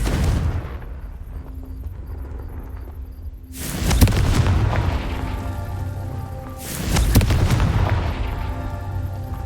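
Confringo fire spell explosions in the video game Hogwarts Legacy, two heavy booming blasts a few seconds apart, each followed by a long rumbling decay over a loud game soundscape.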